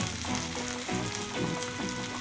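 Garlic and small onions frying with mustard seeds and cumin in a pan for a Tamil kuzhambu, a loud dense sizzle with faint rhythmic stirring swells, close and continuous, no talking.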